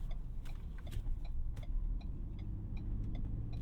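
A 2020 Ford Ranger Lariat 4x4 SuperCrew pickup runs through a U-turn, its steady low engine rumble continuous and close, with faint ticking clicks from the cabin sitting above it.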